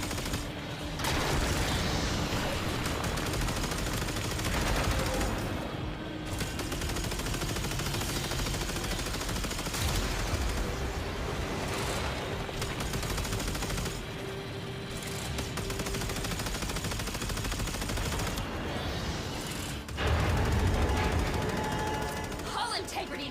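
Rapid automatic gunfire in the Warframe video game, shooting at Sentient fighters during a space flight, with sustained bursts broken by short pauses and mechanical clatter over a dense background of game effects.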